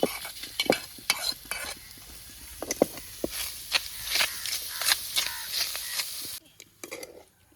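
Chicken pieces dry roasting in a pan with no oil, a steady close sizzle broken by frequent scraping stir strokes, with quiet voices now and then, fading near the end.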